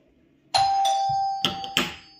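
Electronic doorbell chime ringing in a home, a clear sustained ding tone followed by two sharper repeated chime strikes, loud and close with no talk.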